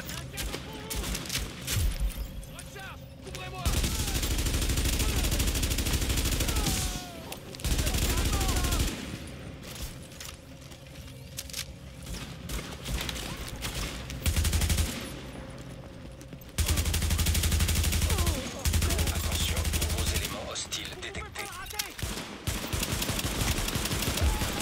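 Bursts of automatic gunfire from the video game The Division crackle in repeated loud volleys separated by brief lulls, with some voices and game sounds mixed in.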